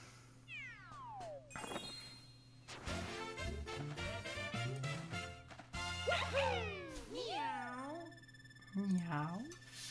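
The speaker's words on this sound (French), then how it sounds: "Miaou." Cartoonish cat meows from Super Mario 3D World, several rising-and-falling mews near the end over bright game music and chiming effects, with a player talking over the game.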